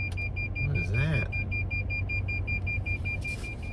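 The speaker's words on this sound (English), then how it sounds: "It beeps when there's something near the vehicle." Car parking proximity sensor beeping, a steady series of short electronic beeps at an even rhythm inside the vehicle, under a low cabin rumble with a brief voice-like sound early on.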